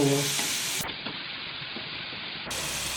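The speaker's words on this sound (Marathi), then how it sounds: "तेल आहे ना आपलं छान गरम झालंय आता आपण एक एक स्वस्टिक तळून घेऊ याला अशी उलट पालट करून घेऊ" Soya sticks deep frying in hot oil, a steady close hiss and sizzle with soft bubbling underneath, moderately loud and continuous throughout with no talking.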